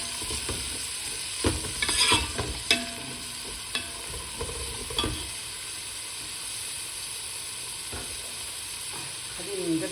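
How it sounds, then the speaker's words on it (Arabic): Onion and garlic frying in a spoonful of ghee for chicken maqluba, with a steady close sizzle and occasional stirring clatter and scrapes in a quiet home kitchen. "والحين حطيت ملعقة سمنة، طبعا انا بستخدم سمنة فرن. حط البصل والثوم"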